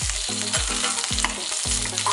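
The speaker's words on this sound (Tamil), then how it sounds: "இதை வந்து நல்லா வதக்கிக்கோங்க." Dried red chillies, green chillies, curry leaves and ginger sautéing in a pan, a bright continuous sizzle with rhythmic scraping strokes of a stirring spoon repeating about every half second.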